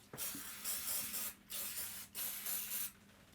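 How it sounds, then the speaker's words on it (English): A spray can hisses onto a craft piece in four short bursts with brief pauses between them, close and fairly quiet, with no talking. "I'll just spray this off camera."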